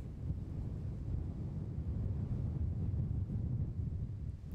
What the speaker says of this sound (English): you can probably hear the wind on our effects mics